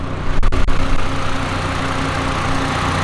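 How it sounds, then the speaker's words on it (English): Toyota Celica GT-S turbo idling with a TRD exhaust, a steady, loud low engine rumble holding even throughout, with a few brief clicks near the start and no talk. "It's super quiet with my TRD exhaust, but it is an absolute ripper."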